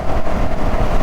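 CFMOTO CLX 700 motorcycle engine cruising at steady moderate RPM, a loud, close, even rumble with constant wind noise and no speech.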